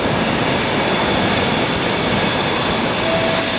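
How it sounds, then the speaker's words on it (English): A passenger train to London King's Cross rumbles loudly and steadily nearby, with a constant high metallic whine from the wheels over the rolling noise. "My train to London King's Cross."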